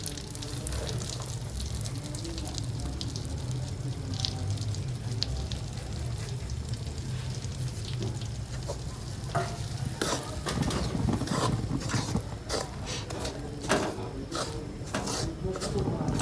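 Wheat flour for khoya pinni being roasted in ghee in a pan, a steady soft sizzle under constant stirring, with the spoon scraping and knocking against the pan more often in the second half.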